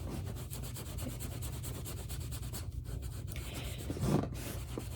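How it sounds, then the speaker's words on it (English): Damp foam loaded with soap is rubbed over vachetta leather on a vintage Louis Vuitton Noe GM bucket bag, making a soft, steady scrubbing rasp in quick repeated strokes, faint and close, with no talking. "with the foam, wet it a little bit and then get some of this soap and start rubbing it, rubbing the vachetta leather"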